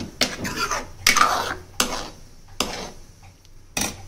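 Sharp metallic clanks and scrapes of a spoon against a pan as tomato puree goes into pav bhaji over a full flame, five or six distinct knocks spaced irregularly, close and fairly loud, no talking.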